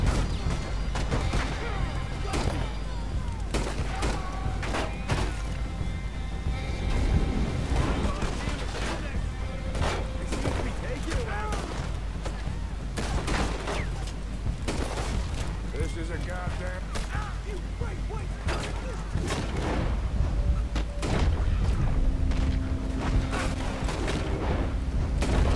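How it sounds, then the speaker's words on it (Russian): Gunfire from the Western video game Red Dead Redemption 2 rings out in scattered shots and booms throughout, over constant background noise, while someone talks over much of it. "С той стороны стреляют."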